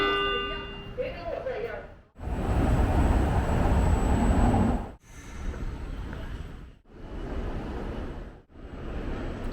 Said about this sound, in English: I'm going to ride the train going to Taichung city, going to Taichung train station.